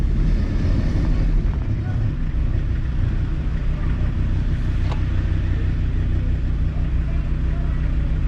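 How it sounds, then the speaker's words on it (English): A loud, rough engine and failing-exhaust drone from inside a moving car, with constant rumbling noise and wind buffeting throughout. "It's starting to sound like a sports car."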